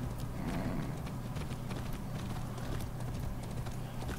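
Horse galloping in the video game Far Cry 6, steady rhythmic hoof clip-clop running continuously, loud and close over a low background hum, with no talking.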